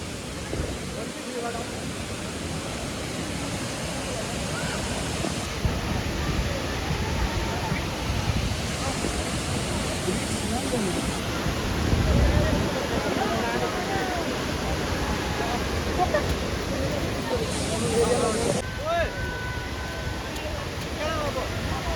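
Lauke waterfall in Nuwakot roars as a steady, broad rush of falling water that fills the whole stretch, with rain falling and occasional faint voices beneath the noise.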